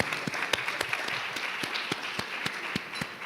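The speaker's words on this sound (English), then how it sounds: "So give us a round of applause for our panelists and thank them," Conference attendees give panelists a round of applause, a modest, fairly faint patter of separate claps from a small crowd in a hall, brief and uneven.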